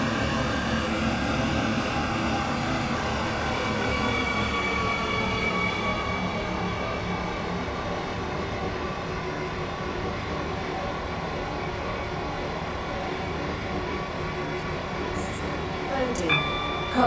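Metro train from the SCR train simulator game, an R132 heard from the cab, runs steadily with a continuous low rumble and whine, staying loud and even throughout, with only a brief brighter burst near the end.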